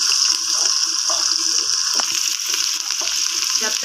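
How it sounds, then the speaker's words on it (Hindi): Chopped onions fry in oil in a pan for an urad (mash) dal, giving a steady close-up sizzle and crackle that runs without a break. "प्याज को मैं अच्छे तरीके से फ्राई करूंगी"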